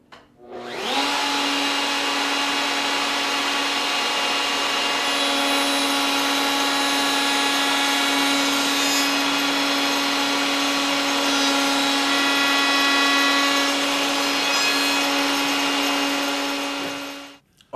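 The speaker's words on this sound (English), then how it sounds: "This will cut a slot into the corners of your frame." A power tool cuts a spline slot into the corner of a wooden picture frame, spinning up sharply and holding a loud, steady whining roar for about sixteen seconds before winding down.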